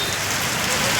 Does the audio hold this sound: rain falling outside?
yes